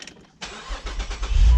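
A rare 2008 Saab 9-3 TurboX cranks and fires up after a brief quiet pause, its exhaust settling into a close, rumbling idle that swells louder toward the end.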